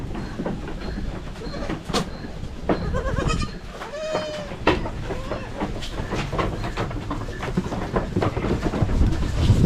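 Several goats bleat at intervals, some near and some farther off, their wavering calls overlapping a busy, rumbling background.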